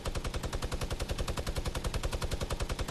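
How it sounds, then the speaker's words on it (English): Rapid automatic assault rifle fire in the Fortnite video game, a steady stream of loud evenly spaced shots rattling without pause for about three seconds. "Just lay down some gunfire."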